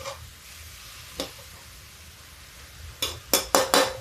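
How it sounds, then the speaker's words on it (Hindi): A spoon stirs and scrapes a barfi mixture in a pan over a faint sizzle, with a few sharp metallic clinks and scrapes, one early and a quick cluster of four near the end. "इसको धीमा ही डाल के इसको चलाएंगे।"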